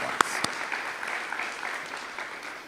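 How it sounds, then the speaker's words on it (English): Audience applause at a middle school ribbon cutting ceremony, a soft, distant wash of clapping with a couple of sharper nearby claps near the start. "So give you all a round of applause."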